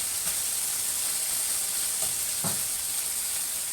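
Sausage browning in a pan, giving a steady loud sizzle and hiss throughout with a couple of brief stirring scrapes, no talking.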